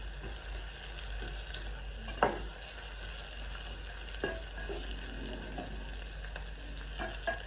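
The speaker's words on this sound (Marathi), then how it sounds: "थोडासा कांदा एकदम सोनेरी रंगावर येईपर्यंत परतून घ्यायचा ना" Onions sautéing toward golden in a pan for Maharashtrian wedding-style masala rice, a low steady sizzle with occasional stirring scrapes and a steady background hum.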